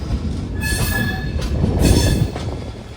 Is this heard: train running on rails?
yes